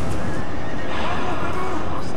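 A horse whinnies as it falls during a cavalry clash in the Napoleon: Total War battle game, a short neigh rising over dense battle noise, with someone talking over it.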